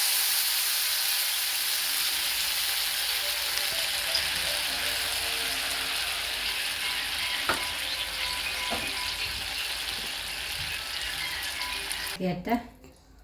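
Tamarind water hits a hot pan of bitter gourd for gojju, setting off a loud, steady sizzle and hiss that fades gradually, with a few clinks of stirring near the end.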